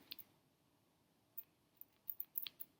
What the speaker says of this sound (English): these scissors are getting dull